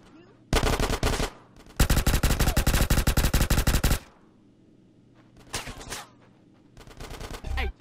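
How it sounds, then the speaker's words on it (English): Automatic gunfire in Grand Theft Auto: San Andreas, heard as a short loud burst, then a long sustained one lasting about two seconds, followed by several shorter volleys after a pause. "Get some suppressing fire in there!"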